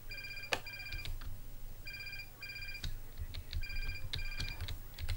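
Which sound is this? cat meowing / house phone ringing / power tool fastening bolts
house phone ringing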